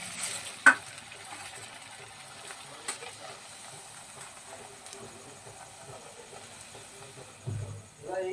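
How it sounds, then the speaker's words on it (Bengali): Sabudana luchi deep-fry in oil with a low, steady bubbling sizzle, close but faint, broken by a few clinks and a brief soft rustle near the end. "এইভাবে বাকি লুচিগুলো আমরা ভেজে নেব।"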